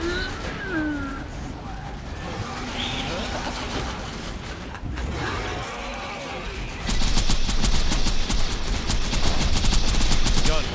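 Rapid gunfire in the Borderlands 2 video game during a boss fight, bursts of shots rising into a dense, loud automatic rattle in the second half, mixed with game effects and speech.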